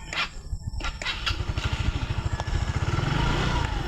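A motorcycle engine runs close by, its low, even chugging pulse steady throughout with rattly mechanical clatter on top.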